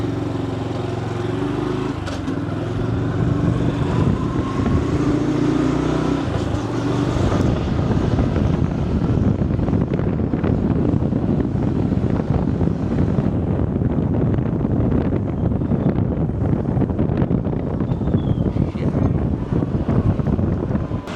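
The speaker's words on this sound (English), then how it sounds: "You're on a motorbike and you're weaving through the traffic." A motorbike taxi weaving through Bangkok traffic, with a steady engine drone and heavy wind rush over the microphone that grows rougher and louder partway through, with no talking.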